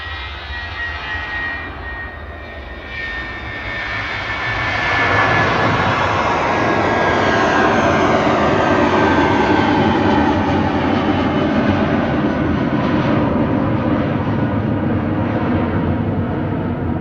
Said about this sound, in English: This is flight 1407 for British Airways. A320 Classic, 16-year-old aircraft.